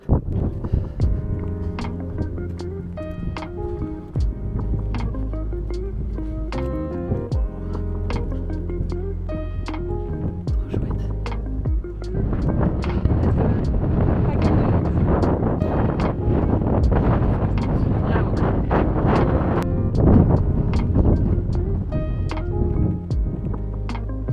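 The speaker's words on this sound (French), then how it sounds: "Comme vous pouvez le voir, il y a du vent." Strong wind buffeting a microphone on Arthur's Seat in Edinburgh, a loud continuous rumbling roar that swells and gusts harder in the second half, with a voice faintly underneath.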